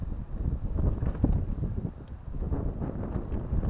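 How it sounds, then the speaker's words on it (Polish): Strong wind gusts buffet the microphone outdoors by an umbrella-covered pool setup, a constant low roaring rush that swells and dips without pause. "Strasznie wieje"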